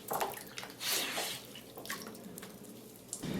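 Climbing rope dragged through a coil brush submerged in water, giving wet sloshing and splashing swishes in irregular bursts, close and moderately loud, with no talking.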